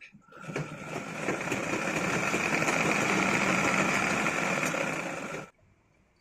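A sewing machine stitches a three-year-old child's basket frock, running in a steady continuous whir for about five seconds before stopping abruptly into near silence.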